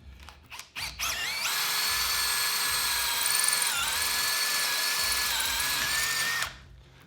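A letter F drill bit bores into aluminum on a KBC mill, a steady high-pitched whine with strong tonal overtones that holds loud and continuous for about five seconds before cutting off, with brief spin-up bursts at the start.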